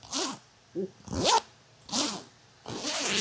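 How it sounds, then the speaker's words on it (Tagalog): A backpack zipper is pulled open or closed in four quick, smooth strokes, each a close, crisp rasp separated by short pauses. "Pakinggan nyo yung zipper."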